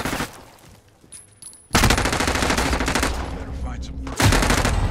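Bursts of automatic gunfire in Call of Duty: Modern Warfare, loud and sustained after a quieter opening, with rapid repeated shots rattling close by.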